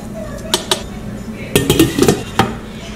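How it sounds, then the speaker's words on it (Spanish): Metal spoon knocks and scrapes against a pot of whole beans simmering with beef ribs, a few sharp clinks early, then a busier cluster of stirring scrapes and taps, close and clear. "Voy a revolver y a partir de ahora lo vamos a dejar por 30 minutos"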